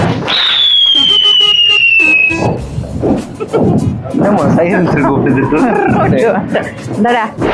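A new Diwali firecracker gives a long, high, descending whistling swee, followed by crackling pops and bursts while several people chatter and shout nearby.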